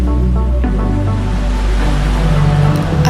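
Water rushing and gurgling at Banyumala Twin Waterfalls, a loud, continuous broadband roar close by with no pauses.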